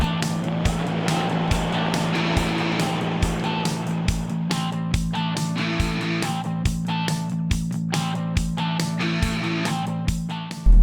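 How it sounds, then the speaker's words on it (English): A Jaguar F-Type P575 R sports car is driven, its engine holding a steady loud drone with a regular rhythmic pulsing and a sharp thump at the end, and no voices. "certainly sounds like a sports car."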